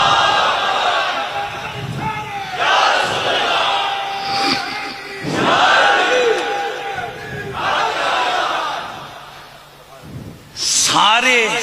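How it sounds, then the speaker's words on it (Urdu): A large crowd at a religious rally chants slogans in loud, rhythmic waves, with a leading voice calling out and the mass answering in repeated surges. "صدیق اکبر کی صداقت کے نعرے لگتے رہے"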